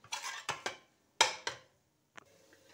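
A spoon stirs wheat flour roasting in ghee over a low flame, giving a few sharp scraping knocks against the pan in short bursts with quiet gaps between them. The sound is close, and no one talks.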